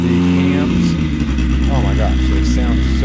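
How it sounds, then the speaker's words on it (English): Turbocharged Honda Prelude engine running with a steady, rich low drone and lumpy cam idle, held close and loud throughout, with a few brief voice-like sweeps over it. "The engine sounds amazing."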